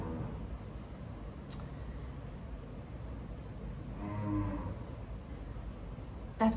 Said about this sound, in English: that's a cow